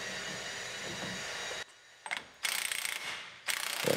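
A ratchet loosens the drive axle nut on a rolled-over Chevrolet Silverado truck, with close, rapid clicking bursts separated by a short quiet pause, then resuming in two more spells.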